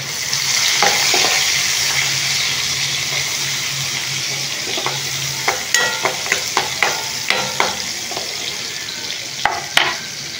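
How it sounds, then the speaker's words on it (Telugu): Thinly sliced onion fries for dry rava upma in a pan, giving a steady, close sizzle broken by a run of sharp clicks from a spoon stirring against the pan. "ఇందులో ఉల్లిగడ్డ ఒకటి సన్నగా తరిగి వేసుకుంటున్నాను. ఇవి రంగు మారేంత వరకు వేయించుకుందాము"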